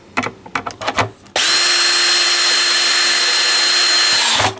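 A power drill drives screws into the bottom of a Fender Acoustosonic 30 amplifier: a few soft clicks and handling knocks, then one loud, steady, high whine that runs unbroken for about three seconds before stopping abruptly.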